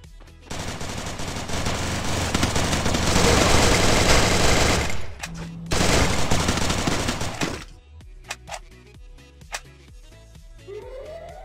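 Rapid bursts of automatic gunfire from the Free Fire video game, two long sustained volleys with a brief gap, followed by scattered single shots and quieter game effects.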